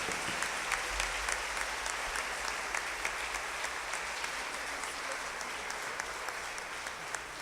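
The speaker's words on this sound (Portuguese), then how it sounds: "Pode dar um aplauso ao Senhor," A church congregation applauds in praise, a dense, steady wash of clapping from many hands that holds evenly throughout with no break, filling the space alone.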